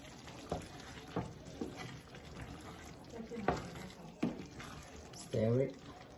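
Ghanaian vegetable stew with salted fish and salmon stirred in a pot, soft scraping and wet stirring strokes recurring at a slow, irregular pace, with quiet background and a brief voice near the end.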